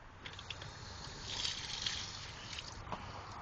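Water rushes steadily from a newly installed outdoor garden-hose faucet fed by 3/4-inch pipe with a copper elbow, a soft, even hiss and slosh heard fairly faintly with no talk.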